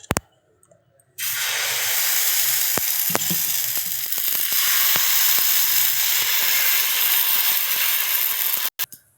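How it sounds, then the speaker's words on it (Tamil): Dosa batter sizzles on a hot griddle, a loud steady hiss that starts abruptly and holds for several seconds, with faint scraping clicks scattered through it and no talk. "இப்போ தோசை ஊற்றிடலாம்."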